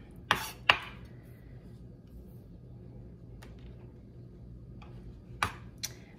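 A kitchen knife chops green onion on a cutting board in a few sharp, separate strikes, two near the start and two near the end, with quiet pauses between them.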